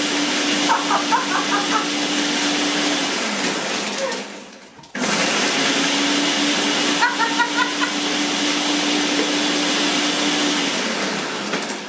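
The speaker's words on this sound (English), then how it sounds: "Brought to you by Ninja Blender." A Ninja blender running steadily at close range, a dense whirring roar with a brief dip near the middle before it resumes at full power; no one talks.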